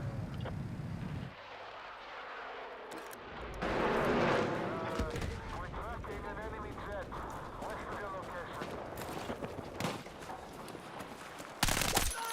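Gunfire in a Battlefield 6 match, with rattling bursts, distant booms and battle clatter playing at moderate level beneath someone talking excitedly over the fight.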